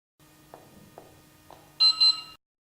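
An HB-MFR solar beam receiver, with the detector coded in, sounds after being switched on: three soft clicks under a steady hum, then two loud, bright electronic beeps close together.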